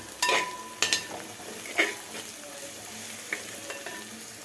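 Meat sautéing with meat masala powder in a pan, a close steady sizzle punctuated by several sharp spatula scrapes and clinks against the metal.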